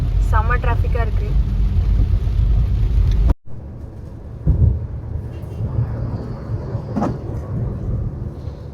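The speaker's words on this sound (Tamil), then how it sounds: "செம்ம டிராஃபிக்காக இருக்குது." Heavy road traffic on the Thiruporur–Chengalpattu road near Chennai during Diwali, a steady low rumble of vehicles with a sharp cut partway and a passing swell, heard with talking over the first few seconds.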